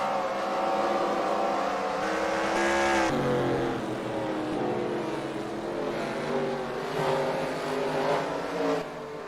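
Race cars roar around the dirt track at Devils Bowl in Texas during the Truetimber Camo 100, engines droning and shifting pitch as they pass at moderate distance, with an abrupt drop in tone partway through.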